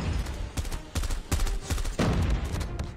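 An M16 rifle firing in Call of Duty, sustained automatic bursts cracking back to back for several seconds, loud and close with short gaps between bursts.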